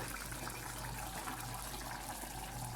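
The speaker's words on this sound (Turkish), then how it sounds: "Şimdi ben buna birazcık balık suyundan ekleyeceğim." Fish broth poured into a pot of simmering potatoes and carrots, a steady broadband liquid gush running continuously and fairly close, with no talk over it.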